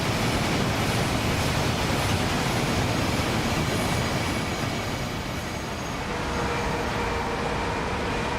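Train running on rails in the Train Sim World 5 video game, heard near top speed from a bridge: a steady, loud, dense rumble of wheels on track with faint squealing tones, continuous with no talk.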